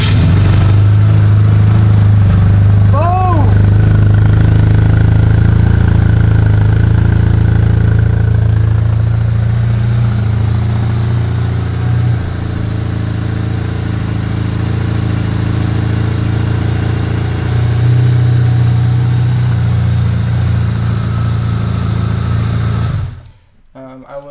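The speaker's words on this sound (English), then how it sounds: "Let's fire this beast up. This thing runs like a top." A 2002 BMW R1150 RT motorcycle engine idles steadily and close up for over twenty seconds, a low continuous rumble with a brief chirp early on, before cutting off at the end.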